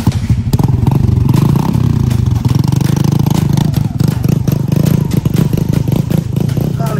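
A motorcycle at a grasstrack race is kick-started and revved, its engine clattering and surging loudly up close with thumping mechanical noise throughout.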